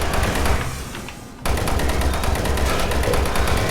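Rapid automatic gunfire from the video game DOOM 3 starts abruptly partway through and holds as a dense, steady burst of close, loud shots.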